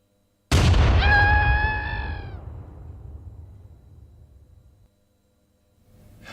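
A single cannon fires with a sudden loud boom. The blast has a brief ringing tone and a rumbling tail that fades over several seconds into quiet.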